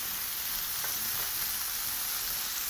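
Tomatoes fry in a pan, giving a dense, even sizzle close by, with faint stirring touches and no voices.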